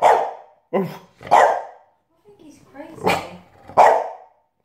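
A dog barks loudly in short bursts, several sharp barks spaced across the clip, close by, with some lower grumbling between them.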